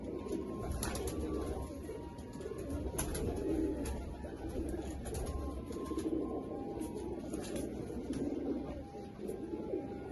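Desi breed pigeons keep up soft, continuous cooing for about ten seconds, a low rolling chorus of several birds with occasional clicks and knocks nearby.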